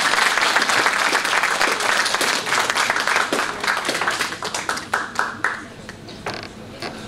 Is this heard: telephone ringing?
no